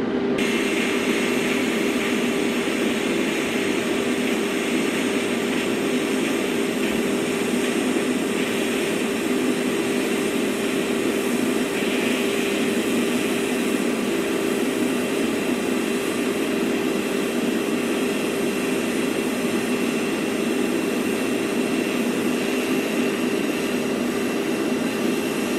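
TIG welder running a practice weld all the way around an aluminum piece, a continuous steady hiss and buzz with a constant hum, loud and close, unbroken for the whole stretch with no talking.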